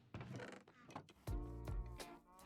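Cows in the Minecraft video game moo in a few drawn-out calls, close and clear, with no talking over them.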